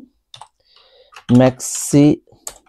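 Quick clicks of a computer keyboard as code is typed, with short bursts of keystrokes heard between spoken words.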